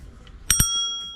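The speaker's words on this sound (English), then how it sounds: "and the bell." Bell on a Ninebot Max electric scooter rings twice in quick succession, two bright metallic dings with a lingering ring-out, close and clear over faint background noise.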